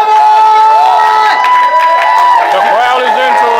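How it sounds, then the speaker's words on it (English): Loud crowd at a wrestling match, cheering and shouting in a dense, continuous roar with whistles and scattered yells, while a commentator talks over it throughout. "The crowd is into it."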